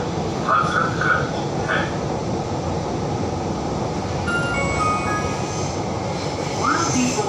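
A Lucknow Metro train running between stations, a steady rumbling roar of wheels and motors heard from inside the car, with faint whines and a few chimes and announcements rising over it.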